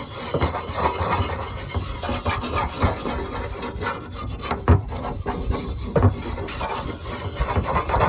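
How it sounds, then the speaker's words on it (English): A steel draw knife being sharpened by hand on a sharpening stone, scraped in circular strokes: a close, gritty rasping rub with irregular louder scrapes and a couple of sharp knocks, no voices. "So sharpen my draw knife."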